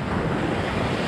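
Sea waves break and wash steadily onto Ammos Beach in Greece, a constant loud broadband surf roar that fills the short stretch with no voices.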